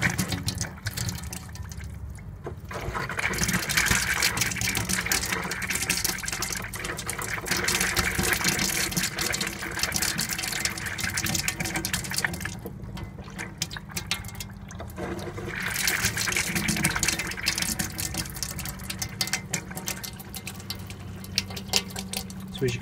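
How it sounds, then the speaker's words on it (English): Hot water runs steadily from a tap, gushing and splashing continuously into a basin at close range. "you should be able to see some hot water coming out of here"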